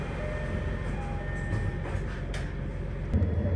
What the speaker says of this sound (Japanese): 列車は改めて長与に向けて出発します。